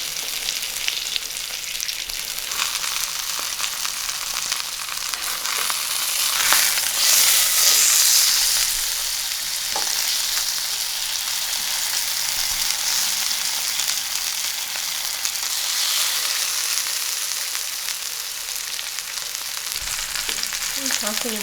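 A fully cooked sous vide rack of lamb sears in a hot pan, giving a loud, steady close-up sizzle that swells briefly and keeps hissing throughout, with no one talking.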